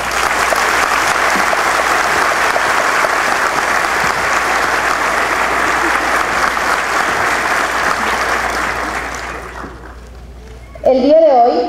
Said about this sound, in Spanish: Quisiera pedirles un fuerte aplauso para todos los colegiados del día de hoy